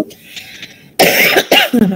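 Several sharp, loud coughs from a lecturer break a quiet indoor moment, coming in close bursts one after another.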